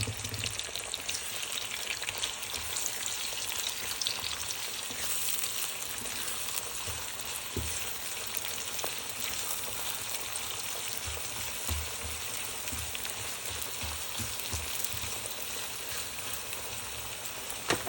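Green chili peppers frying in hot oil for a potol dolma dish, a close, steady crackling sizzle with fine spitting pops that carries on evenly throughout with no voices.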